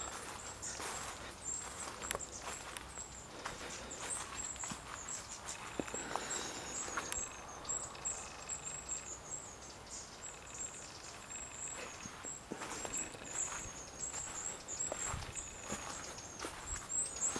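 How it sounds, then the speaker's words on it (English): Footsteps crunching on little twigs and leaves outdoors, repeated soft crackling steps at an uneven walking pace, with a faint high insect buzz and birds in the background. "You can hear the sound of little twigs and leaves underfoot."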